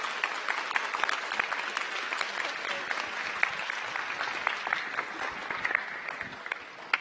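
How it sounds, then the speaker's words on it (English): A modest crowd claps for a participant at a new student orientation, a moderately quiet, crackly patter of individual hand claps that continues steadily for several seconds. "let's give Gianna a round of applause."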